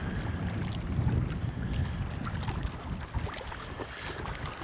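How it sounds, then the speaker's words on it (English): Steady wind blustering over Crystal Lake, a mountain lake, with broad continuous rumbling gusts and buffeting against the microphone throughout, no voices. "it's a little blustery over the lake"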